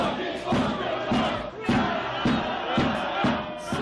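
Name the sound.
football crowd cheering non-stop in stadium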